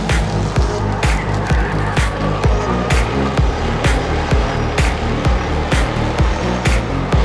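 Race cars at Kingsport Speedway roar past one after another in a rapid, rhythmic series of loud engine pass-bys, each swelling and fading quickly, with no talk over them.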